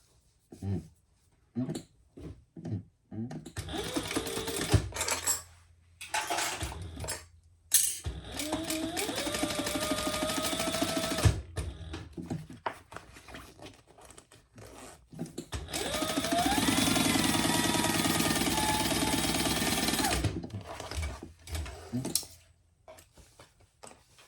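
Sewing machine stitches a quarter inch seam in several bursts of whirring motor, the longest near the end, with someone talking between and over the runs.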